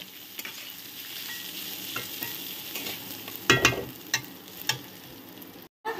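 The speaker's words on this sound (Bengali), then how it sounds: "এই যে ভাজা হয়ে গেছে, চালটা সুন্দর ভাজা হয়ে গেছে" Rice frying and being stirred in a pan for basanti polao, a close, continuous sizzle broken by a few sharp scraping stirs near the middle, with no talking.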